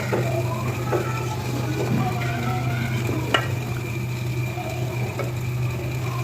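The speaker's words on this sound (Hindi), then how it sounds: "अब यहाँ पर मैं लहसुन अदरक का पेस्ट शामिल कर दूँगी। थोड़ा सा हम भुनेंगे" Garlic ginger paste being sautéed for keema biryani, giving a continuous close sizzle with soft stirring scrapes and one sharp utensil tap, over a low steady hum.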